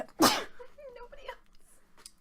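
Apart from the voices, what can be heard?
a person sneezing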